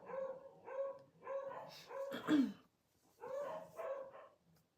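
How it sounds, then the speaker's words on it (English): Dogs bark repeatedly in short bursts, a couple of animals yapping back and forth at moderate distance, with a brief pause before the barking resumes. "I hope that you don't hear the dogs barking in the background."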